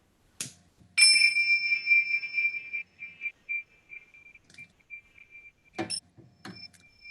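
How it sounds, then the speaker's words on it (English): A small bell rung during a church service over a video call, several bright metallic strikes with a long shimmering ring, fading between hits, alone in a quiet room. "the ringing of the bell"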